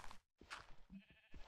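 A Minecraft sheep bleats in short game sound bursts, sharp and fairly quiet, separated by brief silences and softer blips.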